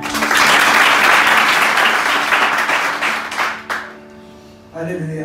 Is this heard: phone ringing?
no